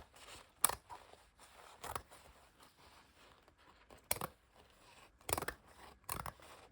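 Scissors chop through thick, tough material in a few sharp, crunchy snips spaced irregularly, close and distinct against a quiet background without speech.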